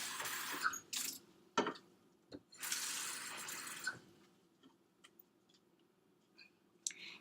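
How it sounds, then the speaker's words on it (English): Water poured from a tap or container into two cups in short bursts, with pouring splashes around the start and middle and faint clicks and taps of the cups being handled in between. "you're going to fill up 2 cups with water"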